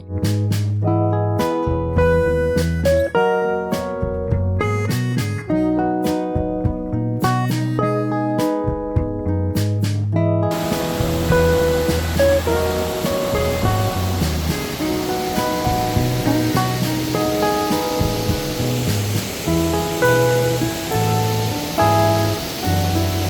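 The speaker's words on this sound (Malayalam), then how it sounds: "മാർമല വെള്ളച്ചാട്ടത്തിലേക്ക് പോകുന്ന വഴിക്ക് തന്നെ വേറൊരു വെള്ളച്ചാട്ടം കൂടിയുണ്ട്" Melodic music plays for the first several seconds, then gives way to the steady, loud roar of a waterfall rushing continuously, a second waterfall on the road from Teekoy to Marmala Waterfalls, Kottayam, Kerala.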